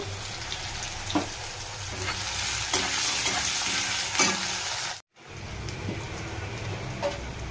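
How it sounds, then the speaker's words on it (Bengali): Potatoes and onions frying in a wok, a dense close sizzle with occasional spatula scrapes, cut by a brief moment of silence before the frying resumes. "তো আলু পেঁয়াজটা ভেজে দিলাম কড়াইতে"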